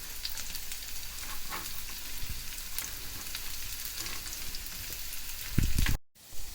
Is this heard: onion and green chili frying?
yes